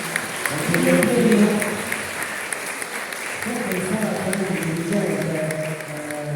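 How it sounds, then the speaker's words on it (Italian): Audience applause at an award ceremony for a children's cultural heritage contest, a moderate wash of clapping that swells early, then continues beneath voices talking. "Evviva, un applauso, bravissimo"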